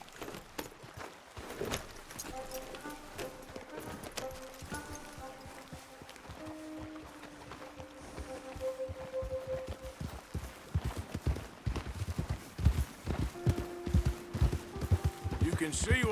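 Horse hooves clip-clop in a Red Dead Redemption 2 game scene, a soft, uneven rhythm of footfalls that grows louder and more frequent toward the end over quiet ambient tones.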